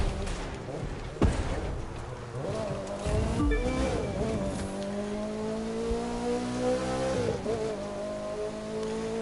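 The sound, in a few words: rally raid car engine in video game The Crew 2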